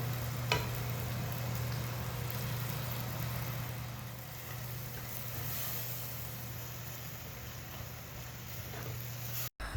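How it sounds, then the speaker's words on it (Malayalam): Chilli and coriander powders fry in oil in a clay pot, giving a soft, low sizzle close by over a steady low hum, with a brief clatter near the start and a thud at the end. "ഇനിയിപ്പോൾ ആ പൊടികളൊക്കെ നന്നായിട്ട് എണ്ണയിലൊന്ന് മൂത്ത് വരണം"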